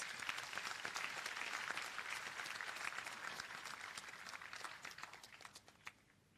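Graduation ceremony crowd applauds the graduates: a quiet, distant, dense patter of many hands that holds steady, then thins into scattered claps and fades out near the end.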